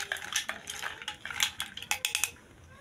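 A spoon stirs cendol dawet with ice, palm sugar and coconut milk in a bowl or glass, giving close, irregular clinks and rattles of ice against the container in quick succession, fairly quiet and with no voices.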